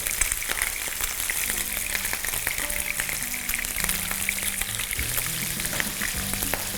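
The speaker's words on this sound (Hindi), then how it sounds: "अब देखिए, इसको ना अच्छा गोल्डन ब्राउन करना है मच्छी को।" Rohu fish sizzling and frying in a pan of hot oil until golden brown for an Assam-style fish curry, a steady dense crackle and spatter with occasional stirring, close and continuous with no talking.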